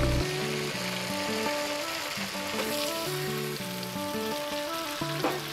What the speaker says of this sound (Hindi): तेज आंच पर चिकन की बुनाई करें।